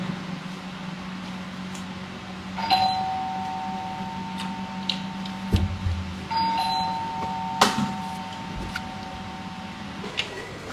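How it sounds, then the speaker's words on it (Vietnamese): A doorbell chimes twice in a home, two clear electronic ding tones a few seconds apart over a steady low hum, with a few knocks and clicks in between. "Ai gõ chuông vậy ta?"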